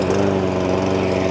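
A Cobra RM46SPBR rear roller lawnmower runs after being pull-started, its small engine chugging loudly and evenly up close with no talking.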